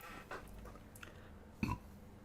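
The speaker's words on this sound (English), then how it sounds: "not a burp in to the mic" A single short burp lands close to the microphone after brief, faint sounds, then quiet room noise follows.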